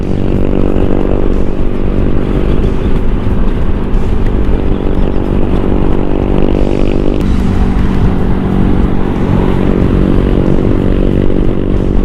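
A Honda Click160 scooter with a four-valve engine accelerates hard on the road. The ride is close and loud, with a continuous engine drone and heavy wind rumble, and the pitch shifts partway through.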